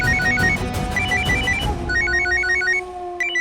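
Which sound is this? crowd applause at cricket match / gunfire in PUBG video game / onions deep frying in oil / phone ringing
phone ringing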